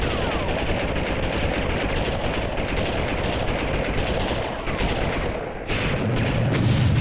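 Enemy gunfire in the PlayStation game Army Men 3D, dense rapid volleys of shots rattling continuously and loudly, with a short lull before the firing resumes.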